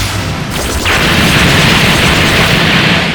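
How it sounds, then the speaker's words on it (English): Big Bang Kamehameha energy attack in the Dragon Ball GT: Kakarot video game: a loud, booming blast that swells suddenly and sustains as a dense, roaring rush of energy, no voices. "Big Bang Kamehameha."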